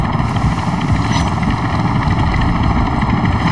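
Helicopter in the Modern Warfare 3 Zombies game, a steady loud rotor and engine drone with a constant buzzing whine running without a break.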